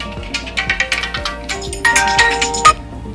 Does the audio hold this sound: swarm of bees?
no